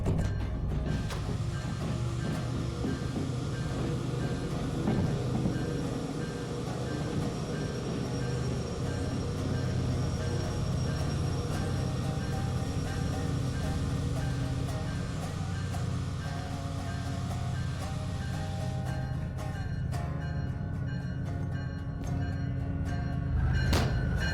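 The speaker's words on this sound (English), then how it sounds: "Actually, we gotta stop the train." A train rolling along the tracks in the Derail Valley railway simulation game, a heavy freight of about 1,600 tons: a continuous loud rumble with a tonal hum, and clattering rattles building near the end.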